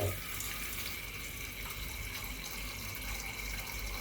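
Cold water running steadily from a kitchen tap, a continuous faint hiss and splash throughout, with no voices.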